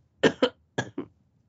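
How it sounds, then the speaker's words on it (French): Four harsh coughs up close, two quick ones then a short pause and two more, in an otherwise quiet room. "Encore pardon pour cette vilaine toux."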